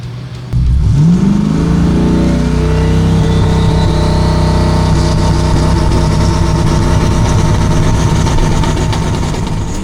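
A C10 race truck with an LT engine launches on a hot drag strip, its engine roaring loudly and rising in pitch as the tires spin, holding a steady, heavy drone close by after an abrupt start.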